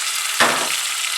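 Meat for pilau hits hot oil in a pot and breaks into a sudden bright sizzle that continues as a steady, close frying hiss.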